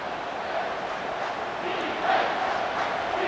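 Stadium crowd noise in the College Football 25 video game as the home fans roar for a red zone defensive stop, a broad, sustained rumble that swells midway, with commentary likely underneath.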